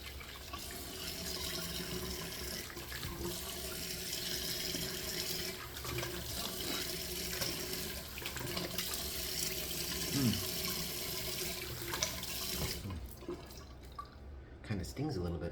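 Tap water runs steadily into a sink while a straight razor, a Feather SS kamisori, is rinsed between shave passes, a continuous splashing wash that stays loud for most of the stretch before cutting off near the end.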